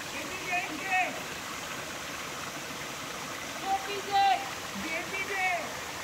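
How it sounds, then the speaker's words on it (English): Waterfall and mountain stream reached after a long climb up a mountain, heard as a steady broad rush of flowing water throughout, with a few brief high chirps rising above it. "We finally reached the waterfall, guys."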